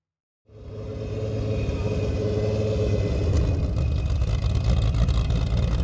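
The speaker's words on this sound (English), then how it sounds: "this car is sounding absolutely crazy" A 1200 bhp four-wheel-drive Cupra engine rumbles loudly on launch control at a test launch, a dense, steady, near roar starting abruptly and holding for several seconds with no talk.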